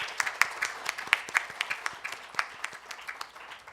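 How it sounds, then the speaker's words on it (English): An audience at an evening event on jobs and entrepreneurship applauds the entrepreneurs present, with sparse, distinct claps from a smallish crowd, moderately close and fairly quiet. "A round of applause please for the entrepreneurs who are here"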